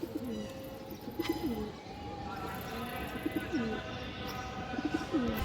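A black Bagha pigeon gives repeated soft cooing phrases in a steady rhythmic series, with other birds chirping and faint people talking in the background.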